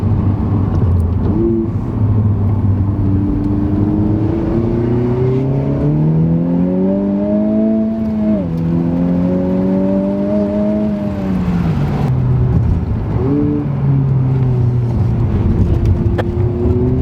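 A Honda Civic Type R Sport Line engine revs up repeatedly, its pitch climbing and falling, loud and close throughout.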